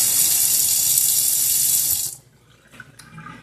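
A faucet runs steadily into a sink during hand washing, a loud close rush of water for about two seconds before it shuts off, leaving a quiet room with a few faint small knocks and clinks.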